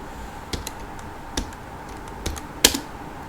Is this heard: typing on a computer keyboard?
yes